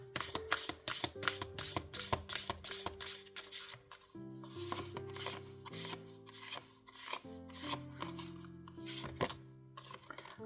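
Lenormand tarot cards being shuffled and riffled close up, quick crisp flicking bursts repeating in a rhythmic run while soft music plays underneath.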